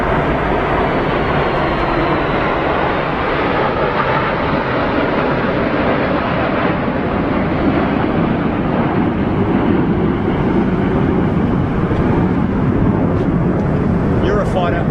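Formation of RAF Tornado GR4 jets roaring past overhead during a flypast over London, a dense continuous jet rumble filling the whole stretch, with crowd chatter and commentary mixed in.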